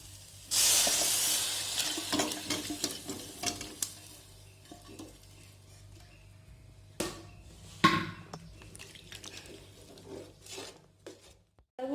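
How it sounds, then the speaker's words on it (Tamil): Cooked pigeon meat is poured into a hot pan, giving a loud burst of sizzling that settles into quieter frying with scattered clatters and stirring scrapes. "இப்போ வந்து நம்ம வந்து வேக வச்சிருக்கிற கறியை எடுத்து ஊற்றிக்கலாம்."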